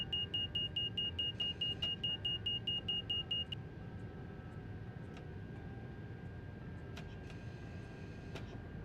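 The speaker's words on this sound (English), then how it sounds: "That's the first time I got that beeping sound." In the train cab of the Train Sim World 2 video game, a rapid warning beep pulses steadily for about three seconds over a low running hum, then stops, leaving only the rumble.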